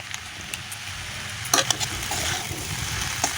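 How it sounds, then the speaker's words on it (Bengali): Chow mein noodles with a pinch of salt and ground black pepper being tossed and fried in a hot wok, a steady sizzle broken by a few sharp scraping stirs midway, close and alone with no talk. "আমি ভালো করে কড়াতে নেড়ে ছেড়ে নেব।"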